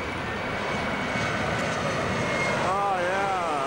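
An airplane coming in to land over houses gives a steady, loud engine roar, with a faint whining tone toward the end.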